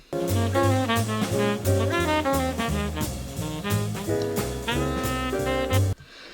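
A hard bop tenor saxophone solo, with tenor lines over piano, bass and drums, loud and steady, ending abruptly.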